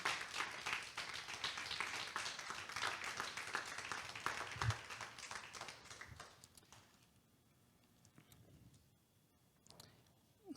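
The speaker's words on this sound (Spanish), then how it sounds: "Dale fuerte el aplauso a Jesús." A church congregation clapping in a Spanish-language service, dense applause that fades out after several seconds, leaving a few scattered claps and quiet room noise.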